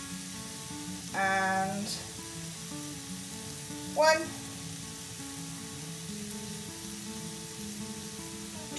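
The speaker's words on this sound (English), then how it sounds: "So I am adding 2 teaspoons of fish sauce" Fish sauce hits a hot pan for plant-based Thai basil chicken and gives short sizzling bursts, one around the first second and another near the fourth, over a steady low frying hiss with a brief spoken word.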